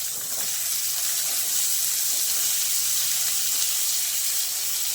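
Beans sizzle loudly in a hot wok with butter and garlic, a steady bright hiss of frying that runs unbroken and close.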